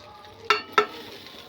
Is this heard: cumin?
yes